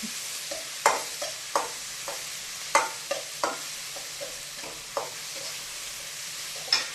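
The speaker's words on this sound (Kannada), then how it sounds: "ಟೊಮೆಟೊ ಎಲ್ಲ ಬೇಗ ಫ್ರೈ ಆಗ್ತದೆ" Tomatoes fry in a hot pan for a chicken leg fry, sizzling steadily while a spoon stirs and scrapes at a regular pace, with sharp clacks every second or so and no voices.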